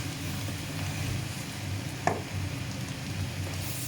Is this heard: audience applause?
no